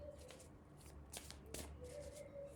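Tarot cards being shuffled by hand in a quiet room, a few crisp riffling bursts with softer sliding between them, close and fairly faint, with no talking.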